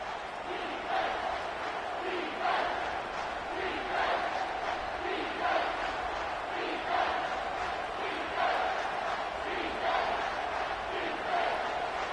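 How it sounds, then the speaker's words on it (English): Loud stadium crowd at a college football game between Cal and Michigan, a dense roar of cheering and chanting that surges in rhythmic waves about every one and a half seconds, sustained throughout with no break. "This crowd knows when to bring it."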